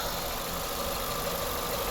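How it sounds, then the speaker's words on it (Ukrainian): A 2009 Renault Megane III with a 1.6-litre petrol engine idles in a steady, even drone, close and continuous throughout, with no voices. "Зараз підемо, подивимося, як працює двигун,"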